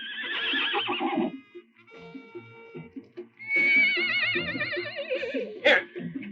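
Several horses neigh and whinny loudly in two long wavering bursts with a short pause between, close by, with a sharp snort-like cry near the end and some faint movement underneath.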